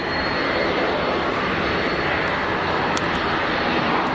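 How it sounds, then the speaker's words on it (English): A United airliner taxiing at Geneva Airport gives a steady, loud jet engine roar that holds constant throughout, with no voices over it. "United is on the taxi."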